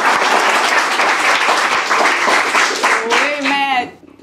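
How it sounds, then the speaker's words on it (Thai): Studio audience at a comedy roast show breaks into loud, sustained clapping and cheering that fades out at the end, with some voices mixed in. "ขอเสียงปรบมือให้กับการด่าไม่เจอ"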